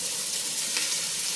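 Chopped onions sizzling in a couple tablespoons of olive oil in a large pot, a steady, close hiss of frying with faint crackles and no talking.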